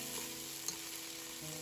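Bean sprouts stir-frying in garlic oil give off a steady, dense sizzle in a pan, close and continuous, with a faint clink partway through and no voices.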